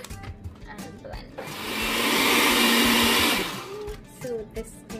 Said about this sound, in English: This is my parsley, into my blender it goes.